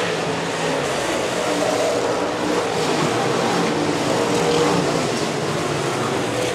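USRA stock cars roar around a dirt track during a night feature race, a dense, steady engine drone that stays loud and unbroken, with no speech.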